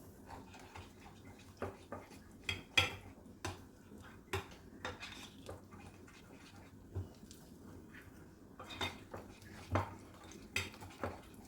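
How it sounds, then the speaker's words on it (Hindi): Egg-based chicken marinade mixed in a bowl, a series of quiet clinks and scrapes of a utensil against the bowl in uneven bursts with brief pauses, close by but faint. "लीजिए मैं इसको करती हूँ मिक्स।"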